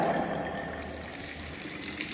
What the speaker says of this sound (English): Pour some more water.